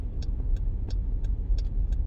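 A C4 Corvette V8 with an erratic idle runs close by, a low steady rumble that swells and dips slightly, with periodic sharp ticking clicks at regular intervals.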